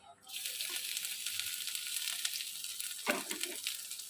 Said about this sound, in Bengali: এই তেলের মধ্যে আমি এইটুকুনি জিরে ফোড়ন দিয়ে দেবো এরপর আমি এই যেখানে আদা গ্রেট করে রেখেছিলাম এই আদাটা দিয়ে দেবো